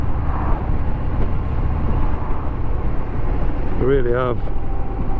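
A Harley-Davidson Sport Glide 107 with its big V-twin engine rumbles low and steady while being ridden, with wind roar mixed in and a rider's voice talking briefly near the end.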